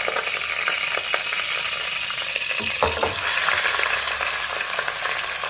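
Chicken pieces washed with salt and turmeric sizzle and crackle loudly in hot oil in a pan, a steady close frying hiss with a brief burst of louder spattering as more meat goes in.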